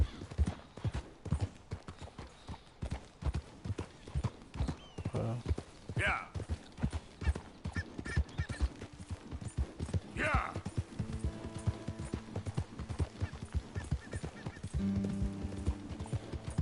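Horse hooves clip-clop in a steady rhythm throughout in the video game Red Dead Redemption 2, with occasional snorts and a whinny, while a person talks over the sound.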